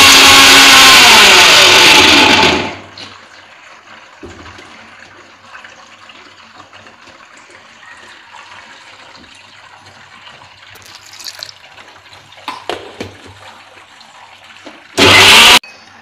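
A kitchen mixer grinder blends gooseberries with water into a paste, loud motor whirring for about two seconds before cutting off, followed by faint clatter and quiet handling, then another short loud burst near the end.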